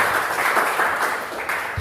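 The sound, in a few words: applause in church congregation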